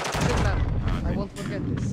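Pistol shots in a video game firefight ring out close and loud in a quick two-second burst, mixed with game noise and a voice.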